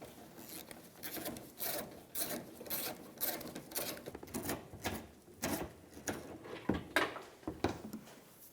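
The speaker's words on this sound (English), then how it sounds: "using a 12mm socket, we're going to remove the bolts on either side of the radiator" A 12mm socket ratchets out the radiator bolts on a 2005-2015 Toyota Tacoma 2.7L, with quiet, rapid bursts of ratcheting clicks and rubbing scrapes close by.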